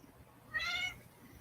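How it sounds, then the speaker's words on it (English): A cat meows once, a single drawn-out, fairly faint call set against quiet room noise, heard in a home where a guitar is being played. "oh, shut up, stupid cat."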